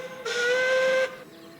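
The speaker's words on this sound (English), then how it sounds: "I swear I've heard that whistle before" A steam locomotive whistle sounds once at close range, a clear sustained tonal blast of just under a second with a breathy steam hiss, then cuts off abruptly.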